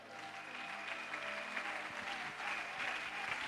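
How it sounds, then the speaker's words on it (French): A church congregation at an Easter fasting-and-prayer service bursts into sustained applause and cheering, a dense steady wash of clapping from a large crowd that carries evenly through the whole stretch. "Est-ce que quelqu'un peut acclamer le Seigneur?"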